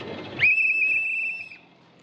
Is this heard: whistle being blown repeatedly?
yes